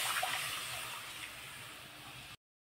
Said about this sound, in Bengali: ফুটিয়ে রাখা জলটা কড়াইতে দিয়ে দেবো